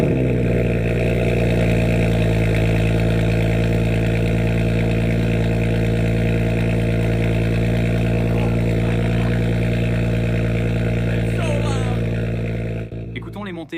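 Modified BMW 335i engine running steadily after start, a loud, close, even idle rumble that holds throughout and cuts off abruptly at the end, with talking over it.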